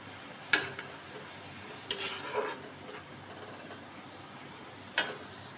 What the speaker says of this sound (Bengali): এবার এটাকে ভালো করে মেশাতে দেব।